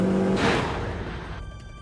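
A hot hatch with a loud titanium exhaust revs hard, a short close burst of engine roar that rises quickly and then falls away.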